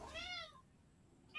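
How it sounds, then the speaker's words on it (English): A house cat gives a single short, quiet meow in an indoor room, then falls silent. "cat's not happy about that"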